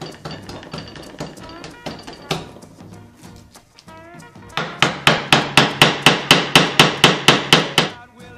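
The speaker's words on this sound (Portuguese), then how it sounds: "Agora eu vou tirando a madeira daqui para lá." Hand tool scraping and knocking wood away from a plant stem to prepare a graft, first in scattered taps, then a steady run of about a dozen sharp, evenly spaced strokes, loud and close.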